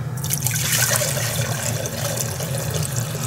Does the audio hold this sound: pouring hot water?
yes